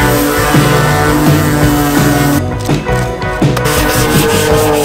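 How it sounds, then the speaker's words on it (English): Loud, close sanding on a van's painted surface: rhythmic back-and-forth rasping strokes repeating steadily, with no one talking. "Sanding our lives away."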